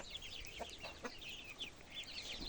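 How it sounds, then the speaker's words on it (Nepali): Chickens and a rooster in a village cluck in short, overlapping bursts, quiet and a little distant. "हेरै कुखुराहरू"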